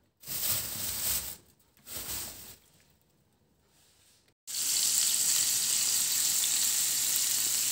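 Food frying in a pan at home, with bursts of sizzling and water-like hiss that pause, then a loud, steady, close sizzle fills the rest.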